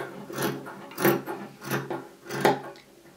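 Scissors cutting a fabric chair cover into fringe, four slow rasping snips spaced about half a second apart, close and moderately loud, with no talking.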